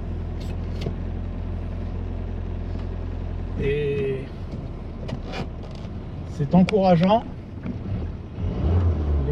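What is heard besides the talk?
engine of a 1986 Citroën BX Sport car while driving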